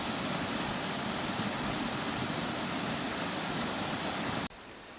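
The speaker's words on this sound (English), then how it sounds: "Just a nice waterfall." A waterfall on a bush walking track, running unusually full, pours as a dense, steady roar that stays constant before cutting off abruptly near the end.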